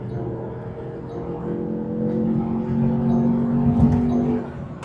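A 2025 Land Rover Defender OCTA with a 635-horsepower BMW-sourced engine accelerates, its engine note rising and swelling over several seconds at moderate distance, with a faint voice underneath.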